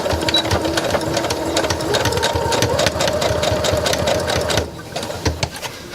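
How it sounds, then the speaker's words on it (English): A sewing machine runs steadily, stitching around the two edges of a snap wallet tab with a fast, even mechanical whir up close, then stops near the end, leaving a few faint handling clicks. "So I'm just going to do a quick sew all the way around the two edges."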